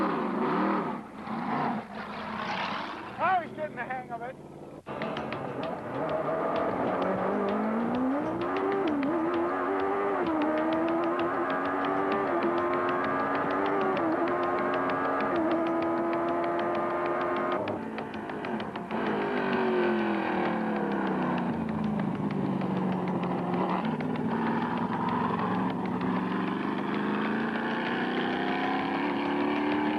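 IndyCar-type race car engine running at a racing school, a sustained buzzing drone with rising and falling pitch as the driver works the throttle, loud and steady for most of the stretch, with a brief spoken remark early on.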